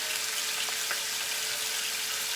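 Ground turkey browning in a pan, giving a steady, even sizzle that hisses without pause and carries only a faint tick or two.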